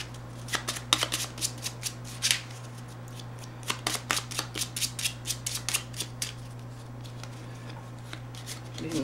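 Rapid riffle-shuffling of playing cards, a series of crisp fluttering bursts repeating steadily over a low constant hum, close and fairly quiet.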